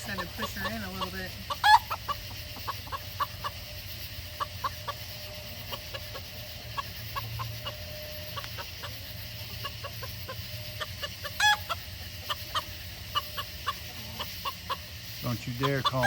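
Wyandotte hens cluck in short scattered bursts over a steady low hum, with a couple of louder squawks standing out near the start and middle.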